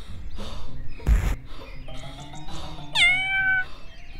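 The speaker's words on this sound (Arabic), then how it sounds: "يا لك من قطة جميلة" A cat meows several times, the clearest a rising, bending meow near the end, close and distinct, with a sharp knock earlier and faint background sounds.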